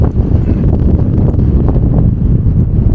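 Strong wind buffets the microphone in a continuous low roar on a beach in Morocco with blowing sand, steady and loud throughout with no voices.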